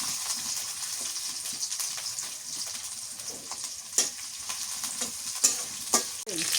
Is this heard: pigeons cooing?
no